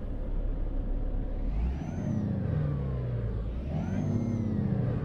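A Volvo FH16 540 truck engine in Euro Truck Simulator 2 turns over and rises into a steady rumbling idle, revving up twice in smooth swells with a faint whine on top, heard alone and close.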